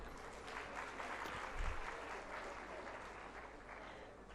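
An audience at a women's award ceremony applauds, a soft, steady patter of clapping held at a distance through the whole stretch with no voices on top.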